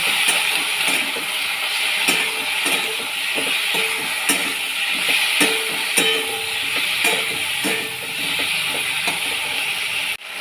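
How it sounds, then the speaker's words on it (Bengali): Sliced okra stir-fried in a pan with ground mustard, coriander, ginger, garlic and green chilli paste gives a continuous close sizzle, broken by repeated scraping spatula strokes at a steady rhythm. "এরপর মশলার সঙ্গে ভালো করে ঢেঁড়স মিশিয়ে একটু কষিয়ে নেব।"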